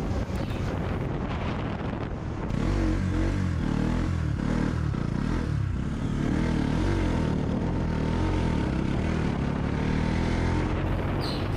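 A Bajaj Pulsar NS200 motorcycle runs at top speed on a road, its engine drone buried under loud, continuous wind roar buffeting the rider's microphone, no voices.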